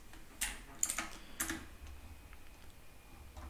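Quick bursts of keystrokes on a computer keyboard while writing ClojureScript code, a few clustered clicks close up and fairly soft, then fading into a quiet room.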